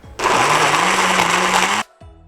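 A kitchen blender whirs loudly and steadily for about a second and a half, grinding spices and water for Malaysian cooking, then cuts off abruptly as the motor winds down, with no talk.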